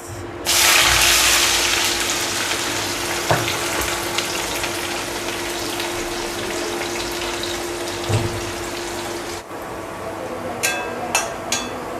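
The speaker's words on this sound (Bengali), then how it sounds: "পেঁয়াজ অলমোস্ট ভাজা হয়ে গিয়েছে" Onions fry in oil in a kadai with cardamom, cinnamon, cloves, peppercorns and bay leaf, giving a loud, continuous close sizzle under a low hum for about nine seconds, then quieter with a few clinks.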